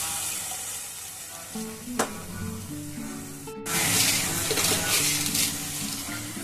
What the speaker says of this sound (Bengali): খুব ভালো করে এখন মশলাটাকে একটুখানি কষিয়ে নেব